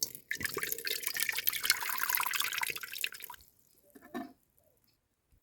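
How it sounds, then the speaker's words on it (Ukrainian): Boiled water pours out of jars of cucumbers during pickling, a dense splashing stream for about three seconds that cuts off, followed by a short trickle and quiet. "Зливаємо першу водичку."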